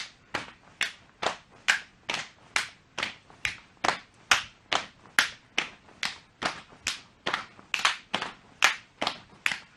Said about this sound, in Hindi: पैरों को एक साथ खोलना है और साथ में सिर के ऊपर ताली बजानी है